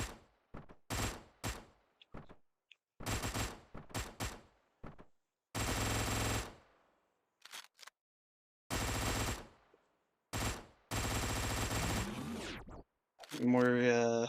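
Bursts of gunfire from the Hotline Miami 2 video game, loud rapid automatic volleys and single shots separated by silent gaps, with a short musical or synth passage near the end.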